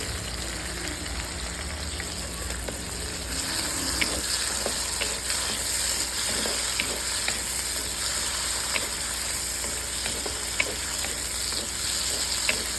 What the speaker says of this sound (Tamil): தக்காளி போட்டு நல்லா வதக்கி விட்டுக்கலாம்